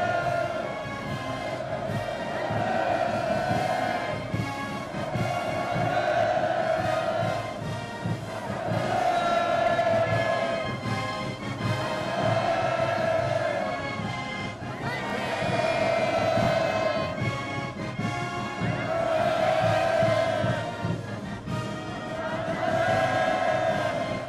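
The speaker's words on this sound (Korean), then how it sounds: "환영 군중들은 정력적인 대외 활동으로 조중친선의 새로운 개화기를 열어나가시는 경의하는 최고령도자 동지를 우러러 폭풍 같은 만세의 환호성을 터쳐" A huge welcoming crowd shouts manse cheers in rhythmic, roaring waves that rise and fall about every three seconds, loud and sustained over the whole stretch.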